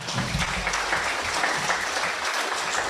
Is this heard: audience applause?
yes